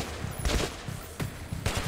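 AK rifle fire in the video game Metro 2033 Redux, a few quick bursts of rapid shots at moderate volume over a low game rumble.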